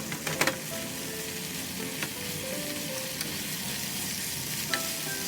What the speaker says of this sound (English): change the fire to the high heat and stirring all toppings together